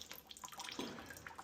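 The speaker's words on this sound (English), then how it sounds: "We're going to restore water by opening up shutoff valve number 1." Water rushing and splashing as a shutoff valve is opened on a Febco 850 double check valve assembly, an irregular gurgling flow at low level with occasional drip-like spatters.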